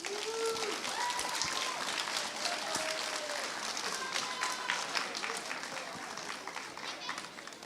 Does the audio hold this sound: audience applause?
yes